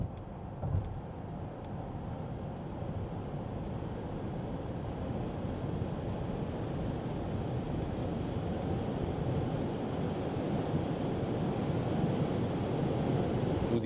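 Inside a 2025 Polestar 4 at about 100 km/h on the motorway, a steady, moderate hum of road and wind noise fills the cabin evenly without a break.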